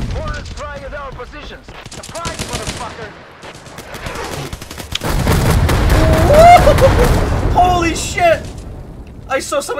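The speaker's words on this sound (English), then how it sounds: "Get fucked with a mortar, dude," A mortar explosion in a shooter video game, heavy booming blasts and gunfire bursts crowded together, loud and close, with voices talking over the action.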